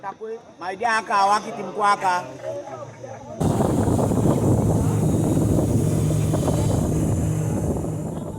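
Someone speaks briefly, then a steady loud rumble of a 20-person motorboat on a jungle river in Suriname, with wind buffeting, takes over and continues to the end.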